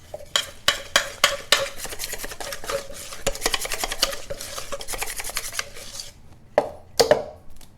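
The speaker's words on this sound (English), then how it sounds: "You mix everything well, and you see you're going to have like a paste." Flour and water being mixed into a poolish paste, with repeated sharp scraping and clinking strokes of a utensil against a bowl, close and loud, in irregular bursts with short pauses.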